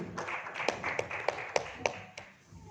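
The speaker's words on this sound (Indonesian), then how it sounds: "Tepuk tangan dulu dong untuk Mas Aldi Ramadiansyah, Commercial Product Marketing Agent Indonesia." A small audience at an ASUS media gathering in Semarang claps sparsely and quietly, a few distinct slaps standing out before the sound dies away.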